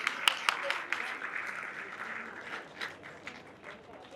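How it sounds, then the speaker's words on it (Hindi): An audience at a laptop distribution ceremony for IT students in Kamra applauds, with crisp claps at first settling into a sustained, fading round of clapping while a voice carries over it. "बहुत सारी तालियां बजाते रहे"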